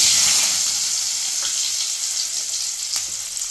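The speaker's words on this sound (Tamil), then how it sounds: "இதுவும் நல்லா ரோஸ்ட் ஆகிற வரைக்கும் வறுத்துக்கலாம்" Small pieces of chopped ginger roasting in a pan make a loud, bright, continuous sizzle that fades slightly over time, with a couple of light utensil clinks and no voices.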